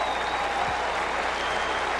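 Cricket crowd applauding a boundary hit over the slips at an Australia versus West Indies Test match in 1992: a steady, broad wash of clapping and crowd noise for two seconds, without clear speech.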